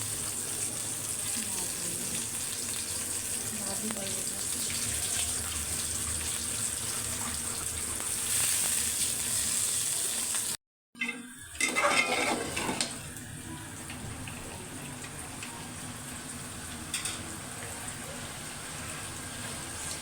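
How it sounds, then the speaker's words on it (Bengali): Malabar spinach seeds fry in a pan with a steady, close hiss, broken by a brief silence midway and followed by a burst of clattering and louder sizzling. "পুঁইশাকের বিসি ভাজবে এখন"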